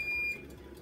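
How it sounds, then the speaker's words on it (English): An oven's preheating alert: a single high electronic beep holds for about a third of a second, clear and fairly loud, then fades into quiet kitchen noise. "Sorry about the noise my friend, that was the oven preheating."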